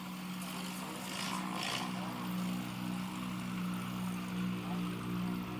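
A STOL competition aircraft's engine and propeller produce a steady, droning hum with a constant low tone, heard at a moderate distance and unbroken throughout.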